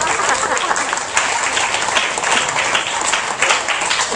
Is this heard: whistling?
no